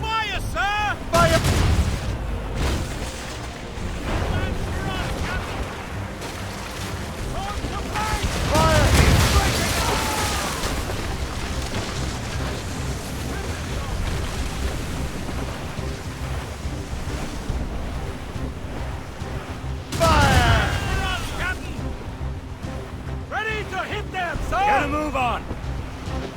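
Ship cannons firing in Assassin's Creed Rogue, a few heavy booms over constant ocean surf and wind, with voices shouting orders throughout.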